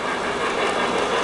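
Model trains run around a layout track, giving a brief steady rolling rumble with a light clickety-clack and hiss, close and fairly loud.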